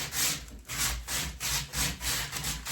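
Coarse sandpaper rubs back and forth by hand over a wooden surface in a chilly workshop, producing a steady rhythmic rasping of about six close strokes with no talking.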